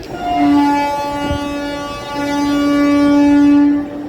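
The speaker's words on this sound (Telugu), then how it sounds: "ఇప్పుడు 1వ నెంబర్లోకి ఒక ట్రైన్ అయితే వస్తుందన్నమాట" A train pulls into platform 1 at Dhone Junction railway station, sounding a long tonal horn in two blasts, the second held longer, over a low rumble of rolling wagons, fairly loud and close with no one speaking.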